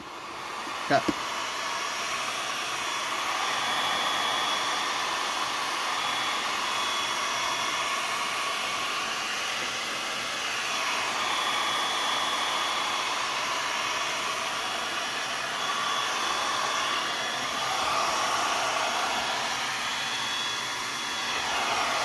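A heat gun blows steadily while warming a Mercedes headlight lens cover: a constant close whooshing roar that runs unbroken, with a couple of sharp clicks near the start.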